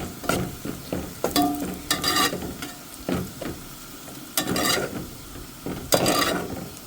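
Onions fry and sizzle in a pan while being stirred, with repeated scraping strokes of the utensil over a steady sizzle, close and fairly loud, no talking.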